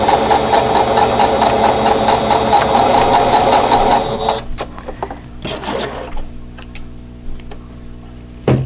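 A sewing machine stitches a quilt block, its fast even needle rattle running steadily and close for about four seconds before stopping, followed by quieter handling clicks and rustles.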